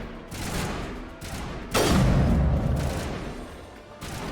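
Gunfire in Mass Effect Legendary Edition: scattered shots, then a loud booming blast that rings and decays, followed by more bursts of fire close by.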